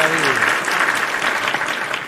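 Applause during a chess match broadcast: a dense, continuous clatter of clapping from a crowd, loud and close, holding steady for about two seconds with a faint voice briefly underneath at the start.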